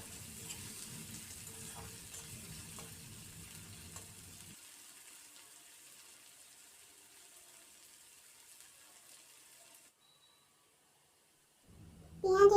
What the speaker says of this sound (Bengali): এখন আমি পেঁয়াজ এবং রসুনকে ব্রাউন করে ভেজে নেব